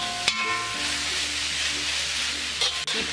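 Pepper chicken masala with curry leaves, salt and pepper sizzles and fries in a pan while being stirred, with a steady close hiss and a couple of sharp scrapes.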